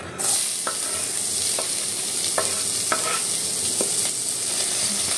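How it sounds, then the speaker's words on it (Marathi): Chopped onion hitting hot oil with a bay leaf for a Malvani mutton masala, giving a steady close sizzle with occasional scraping stirs and spatula taps throughout, no voices. "तर आता हे तमालपत्र टाकून घेतलं आपण आणि आता हा कांदा घालून घेऊया"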